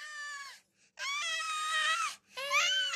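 A jackal cub cries in three long, wavering wails with rising and falling pitch, loud and close, separated by brief pauses, with no other sound.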